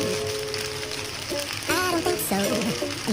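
Pasta fries and is stirred with spices in a pan, giving a steady sizzle and scraping while someone talks over it.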